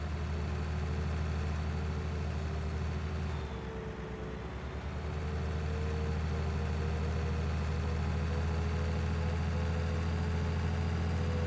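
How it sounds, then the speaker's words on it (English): A powerful tractor engine in Farming Simulator 19 drones steadily at idle, a constant low hum with a short dip in pitch and load midway before settling back. "Definitely noticed the difference in the engine sound with that more powerful engine."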